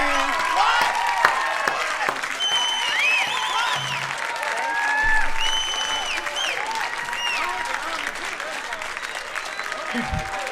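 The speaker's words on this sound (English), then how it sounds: "Standing ovation." A standing ovation at a live concert: a large audience applauding steadily and loudly, with scattered cheers and whistles carried throughout.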